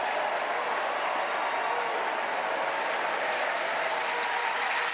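A large political convention crowd applauds Senator Raphael Warnock, a steady, dense roar of clapping that stays loud and even throughout with no pauses.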